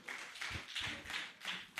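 Conference audience clapping to cheer on someone climbing a stage at a pharmacists' annual general meeting in Lagos, several bursts of applause rising and falling at moderate distance, no talking.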